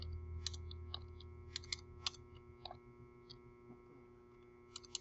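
A computer keyboard tapped in sparse, irregular clicks, faint and close over a low steady hum.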